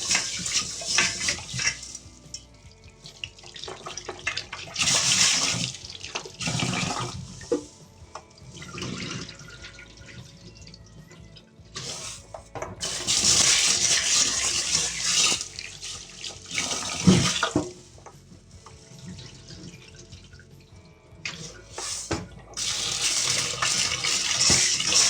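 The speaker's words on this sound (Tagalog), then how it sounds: "Hugasan ko muna mga kalilin." Tap water runs in bursts over ingredients being washed in a kitchen sink, with a splashing gush that starts and stops as the flow hits the food and the basin.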